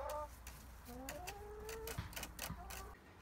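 A hen clucks softly in short, rising calls amid a quiet backyard background, with a few faint knocks.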